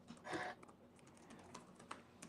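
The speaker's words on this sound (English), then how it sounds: "This keyboard, I forget what keys they use to reproduce it, but it's very, very, very, very close in feel to the original." Typing on a Model M-style replica Commodore 64 keyboard: a cluster of close, clacky keystrokes in a quick burst, then scattered single key presses at a quieter level.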